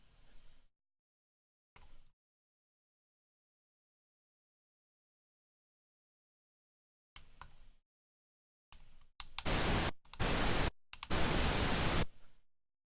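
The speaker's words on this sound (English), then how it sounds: "Pink noise, making noise for all of you." A few short bursts of hissing noise, then louder steady blocks of broadband noise switch on and off, separated by silence.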